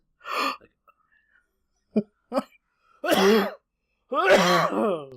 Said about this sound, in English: coughing attacks right out of the gate